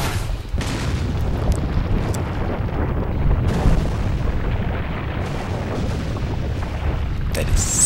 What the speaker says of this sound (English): So I can just RPG them. Blows them both off.